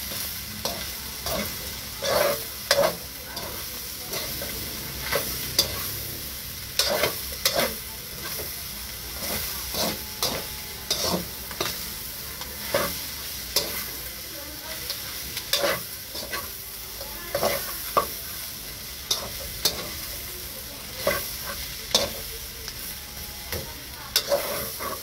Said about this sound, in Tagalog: Okay, haluin natin.